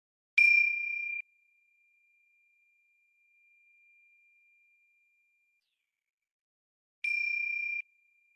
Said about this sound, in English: So if you hear a sound like this bell,